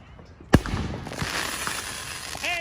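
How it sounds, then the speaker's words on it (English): Fireworks from a backyard show burst with one sharp loud bang, then a long crackling, sizzling tail fills the air, with a faint whistling streak rising near the end. "No, these are our fireworks."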